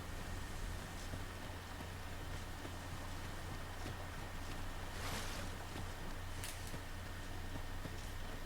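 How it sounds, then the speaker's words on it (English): Waterfall in the video game Dragon's Dogma 2, a steady, dense rushing of falling water that fills the whole stretch with an even roar, no voices over it. "Ooh, waterfall."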